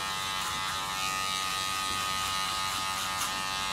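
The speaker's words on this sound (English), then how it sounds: "think of your clipper like an eraser, and you just slowly want to erase things out" Hair clipper set to a 1.5 guard buzzes steadily and loudly at close range while fading hair, a continuous electric hum with slight variations as it moves.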